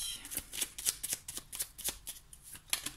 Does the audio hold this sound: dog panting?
no